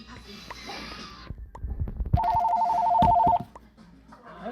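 A telephone rings with a steady electronic trill of about one second, loud over a busy background of talk and clatter, and a voice continues around it.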